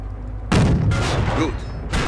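A tank cannon fires in the Company of Heroes video game and strikes an enemy tank's rear armor, giving a loud, heavy booming blast with a rumbling tail, followed by a second burst shortly after.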